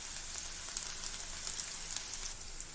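Curry leaves sizzling in hot oil in a frying pan for tomato egg gravy: a faint, steady hiss with a few small crackling pops scattered through it.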